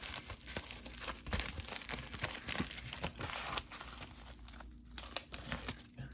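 Paper and plastic crinkling as graded-submission cards in a card saver sleeve are folded down into a bubble mailer, a steady stream of close rustles and crunches with no talking.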